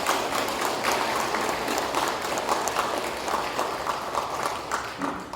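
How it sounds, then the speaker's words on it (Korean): A Catholic parish congregation in Incheon gives a warm round of applause to welcome newly arrived teachers, a thick, even wash of many hands clapping that carries on for several seconds. "선생님들 환영의 인사 박수 한번 보내주시기 바랍니다"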